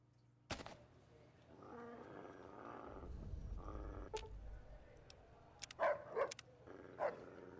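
Dog barking in Fallout: New Vegas on PS3, several sharp barks in the later half over game ambience and a low rumbling background.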